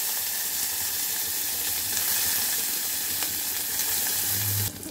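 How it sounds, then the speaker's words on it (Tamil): Onion and curry leaves frying in hot oil for a radish kulambu give a steady, dense sizzle that holds evenly throughout, with a brief dip at the very end. "வெங்காயம் கருவேப்பிலை போட்டுக்கலாம்."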